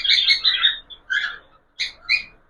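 A budgerigar chirps nearby in clear, bright bursts, several quick tweets in short groups separated by brief pauses, with no voices.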